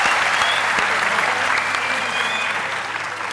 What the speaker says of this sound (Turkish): Alkışlarımız arttır senin için.